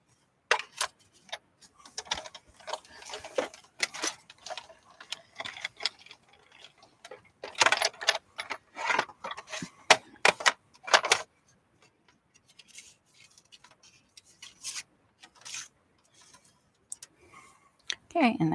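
Big Shot die-cutting machine hand-cranked to cut a small paper daisy, a series of irregular clicks and ratcheting taps, close and moderately quiet, with gaps of near silence and some talking.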